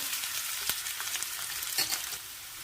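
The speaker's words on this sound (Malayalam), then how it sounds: "ഇഞ്ചി വെളുത്തുള്ളി സവാള എല്ലാം കൂടി ഇതിനകത്തേക്ക് ഇടുകയാണ്" Ginger, garlic and onion tipped into hot oil, giving a steady close hiss of frying with a few soft scrapes and pops, no voices.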